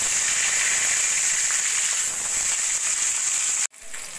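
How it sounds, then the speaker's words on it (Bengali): Fish frying in hot oil in a wok, a steady loud sizzle and hiss running continuously, briefly interrupted near the end before the sizzle resumes more softly. "এবার আমি মাছগুলো ভেজে নেব।"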